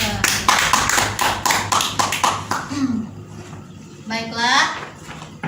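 Classroom applause, a rapid run of sharp claps from a group for about two and a half seconds, followed by a few scattered claps while voices talk over it.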